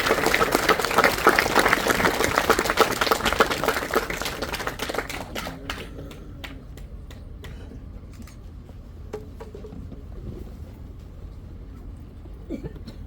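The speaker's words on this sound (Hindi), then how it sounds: "जोरदार तालियां" Applause at a Paramartham Vijayi Bhav 2025 event welcomes speaker Ankush Tambi: dense clapping for about five seconds, then thinning to scattered claps.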